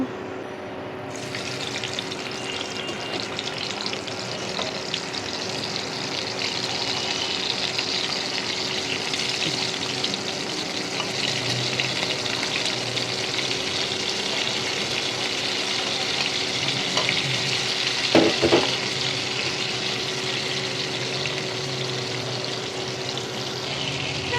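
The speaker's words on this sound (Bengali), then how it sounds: "মাছ ভাজার জন্য তেল গরম হয়ে গিয়েছে আমি এখন মাছগুলো দিয়ে দেবো" Sea fish go into hot oil in a wok, setting off a sudden bright sizzle that holds steady and close for over twenty seconds, with a brief cluster of louder pops and clatter near the end.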